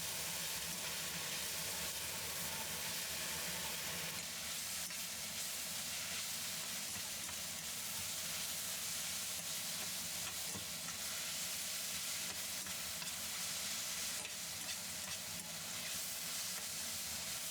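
Eggplant stir-frying in a pan for a Chinese dish, a steady, close sizzle with soft hissing and occasional stirring scrapes that runs continuously without talk.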